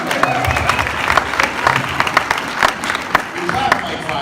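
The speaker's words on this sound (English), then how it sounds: "We clapped like 500 people" Audience applause at a FanExpo Dallas convention panel: a crowd clapping loudly and continuously, with scattered sharp claps standing out and voices talking and laughing underneath.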